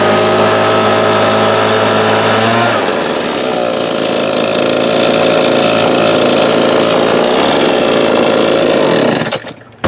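A Husqvarna 525BX handheld blower's small two-stroke engine runs loud and close, its pitch shifting after a few seconds as it settles into a steady hum before cutting off at the end.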